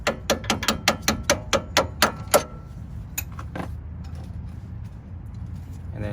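A ratchet loosens the lower strut bolt during a coilover install on a Nissan Z car, giving a quick run of about ten crisp clicking strokes that then stops, followed by a few slower clicks and soft handling noise.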